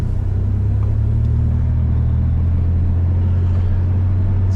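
A car turning around on a road in the aftermath of Hurricane Wilma: steady, loud low engine and road rumble heard from inside the cabin, continuous and even throughout.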